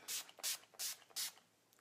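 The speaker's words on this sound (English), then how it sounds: "I'm going to take a little bit of our setting spray though too and spray that." Four short, soft hissing sprays of makeup setting spray from a pump bottle, evenly spaced, close by and quiet.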